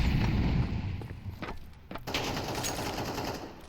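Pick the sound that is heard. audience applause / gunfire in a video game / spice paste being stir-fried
gunfire in a video game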